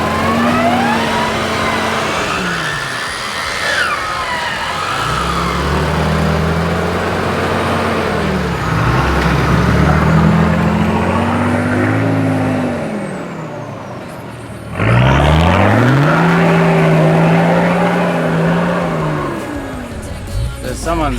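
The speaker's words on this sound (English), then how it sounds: "the ruts are deep, I'm dragging diffs and it's very slippery out here" A 4WD on 35-inch tyres grinds through deep, slippery ruts, its engine labouring and revving in long rising and falling surges with the differentials dragging, loud and close, with a sharp burst of throttle near the end and a voice talking over it.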